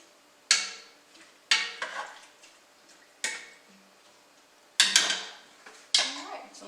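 Spoon stirring garlic into vegan red cabbage and black bean soup in a pot, five distinct metallic clinks spaced about a second apart, each followed by brief scraping, close and clear with no talk.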